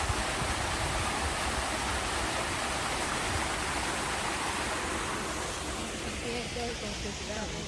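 Water pours off a bridge into a pond in Central Park, a constant broadband rush like a small waterfall, loud and steady, with a voice talking over it in places.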